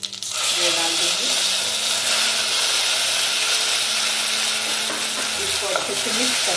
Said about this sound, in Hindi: अब मैं इस पे डालूंगी कड़ी पत्ता, और हमने जो पेस्ट किया हुआ था